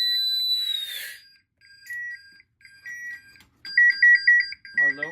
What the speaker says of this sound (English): There should be a halfway point alarm.